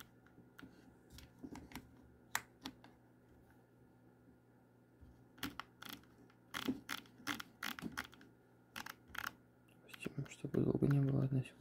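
Sony a35 camera shutter firing repeatedly, sharp close mechanical clicks in irregular clusters, some rapid bursts, with a quiet whirring mechanism near the end and no speech.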